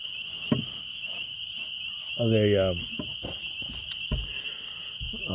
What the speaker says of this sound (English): you can hear the spring peepers, and they are loud